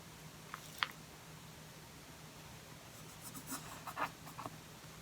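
A pen point scratches along a traced line on paper while drawing a fir tree, faint soft scraping strokes in short bursts against a quiet room.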